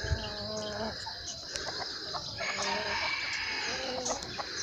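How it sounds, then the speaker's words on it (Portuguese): A hen on a farm in the late afternoon, clucking repeatedly in short uneven bursts, close and clear, with insects buzzing steadily in the background and no speech. "a galinha que tava chocando aqui"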